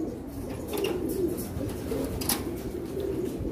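Pigeons in a breeding loft: soft repeated cooing near the listener over a steady low background hum, with no talking.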